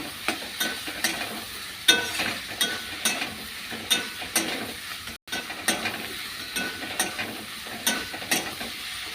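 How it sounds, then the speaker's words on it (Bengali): Fish being stirred and fried with spicy masala in a pan for a Bengali dried-fish curry: steady close sizzling with repeated rhythmic scrapes and clacks of the spoon, no talk. "মাছগুলো দিয়ে দিলাম। ওর সাথে কষলে তবে ঝাল মশলাগুলো উঠে দেবে।"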